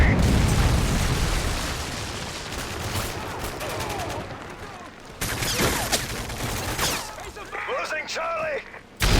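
Explosions and heavy gunfire from a Predator missile strike in the video game Call of Duty: Modern Warfare 3, with dense booming blasts throughout, a sharp break midway, and game voice announcements over the battle noise.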